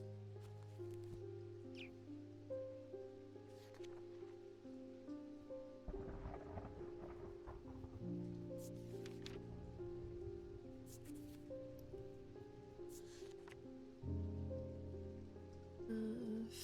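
Video game storm ambience: steady rain patters on surfaces while low thunder rolls and rumbles repeatedly across the whole stretch, moderately distant, and no one speaks.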